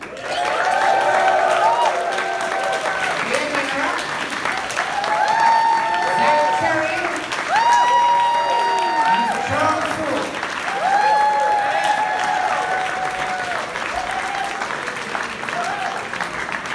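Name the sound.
audience applause welcoming the panel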